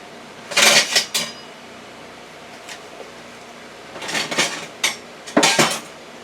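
A utensil mixes a creamy spinach tuna pasta salad with eggs in a dish, bursts of clinking and scraping against the bowl separated by quiet pauses, close and fairly loud with no speech.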